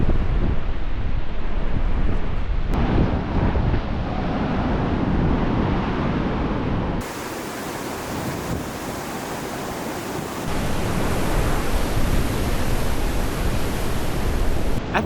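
Vernal Falls in Yosemite roars as fast-moving water rushes and crashes below the cliffside stairs of the Mist Trail, a loud, steady broadband wash with wind buffeting the microphone and no pauses.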